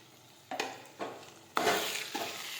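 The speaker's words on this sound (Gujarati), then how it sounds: "હવે આપણે સાતળી દઈશું." Cumin, sugar and salt sautéing in a pan for a ganthiya and tomato curry, with soft sizzling broken by a few distinct bursts as the spoon stirs, close and quiet, no talking.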